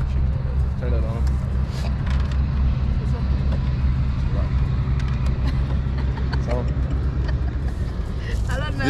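A quad bike engine runs steadily after being switched on, a continuous low idle rumble close by, with people talking over it.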